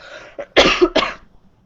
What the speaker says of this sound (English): I'll just actually cough.